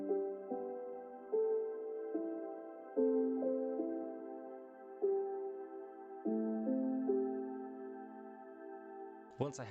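Lo-fi guitar chords, strummed and sustained over a soft pad and built in FL Studio, ring out one after another at a slow, even pace, each fading before the next, alone and clean.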